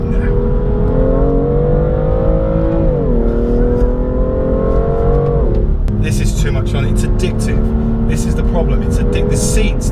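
A 2017 BMW M2 engine accelerates hard on a track, its harmonic note sweeping up through the gears with a shift dip midway, loud and steady throughout, with crackling pops and whooshes late on.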